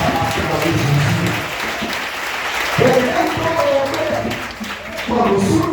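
A church congregation at a Jericho prayer gathering in Akogbato applauds and acclaims Jesus, loud sustained clapping and cheering from a crowd mixed with voices, swelling again near the end.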